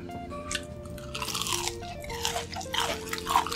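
Fried shrimp dipped in chicken sauce being bitten and chewed up close, with a few crisp crunches and wet mouth sounds over faint background music.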